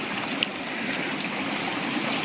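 A rocky stream near Tugpan Falls in Santa Josefa, Agusan del Sur, flows in a constant close rush of water over stones, with a few faint splashes and trickles.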